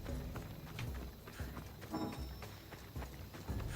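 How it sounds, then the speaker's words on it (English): Hooves of a horse in Assassin's Creed Odyssey clatter in a steady galloping clip-clop, fairly close and loud over game ambience and scattered effects, with no talking. "I have a horse that'll just show up whenever I want him to"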